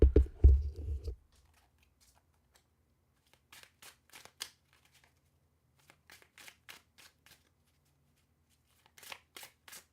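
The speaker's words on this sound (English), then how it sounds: "I'm going to shuffle the cards." Soft rapid clicks and flutters of tarot cards being shuffled, coming in short bursts after a brief low thump at the start.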